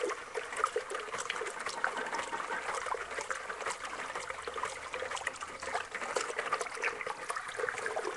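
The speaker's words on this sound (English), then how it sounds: "then we'll pour that into the machine" Sugar water pours steadily into a water ice machine, a continuous trickling wash that holds at an even level for the whole stretch with no talking.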